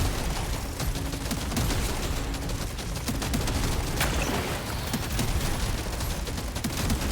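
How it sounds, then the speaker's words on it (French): Rapid, dense gunfire and blasts from a shotgun in the video game Deep Rock Galactic Survivor, continuous loud crackling bursts with no pauses across the whole stretch. "Ah, le fusil à pompe il est pas vilain quand même."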